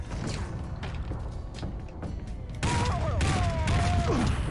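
Gunshots aimed at the player in the Red Dead video game, several loud sharp cracks in an irregular burst, followed by denser booming fire with whistling, whining ricochet tones near the end.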